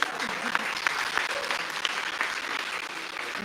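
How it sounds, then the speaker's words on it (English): Applause from a crowd, a steady patter of many hands clapping at moderate distance, fairly soft and even across the whole stretch. "big applause for Sofia, everyone"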